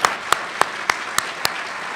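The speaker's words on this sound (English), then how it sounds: "let's give a round of applause for them" An audience at a Wings Club event applauds airline pilots, a full steady wash of clapping with a few sharper individual claps standing out at regular intervals.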